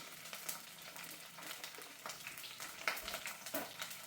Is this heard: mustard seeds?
yes